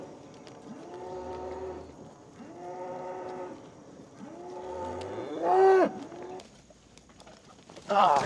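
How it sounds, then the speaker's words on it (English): Cattle moo repeatedly in long, drawn-out calls on a farm, a calf bawling for its mother, with several loud lowing calls spaced a second or so apart and a brief sharper noise near the end. "That calf wanted with his mama."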